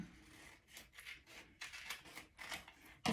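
Scissors snip and rub at plastic stencil packaging in a series of short, close cutting bursts, louder near the end, with no talk over them.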